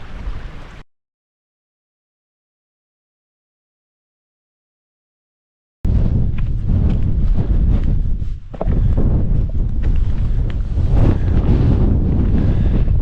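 Strong gusty wind buffets the microphone on an exposed Scottish mountain circuit near Beinn Dearg in August, a loud continuous roar that drops out briefly before resuming with heavy low rumble.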